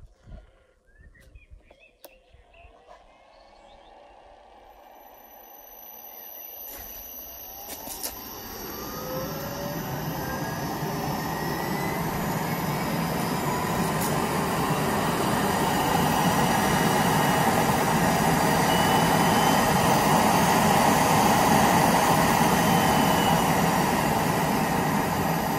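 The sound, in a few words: 3hp regenerative blower running on test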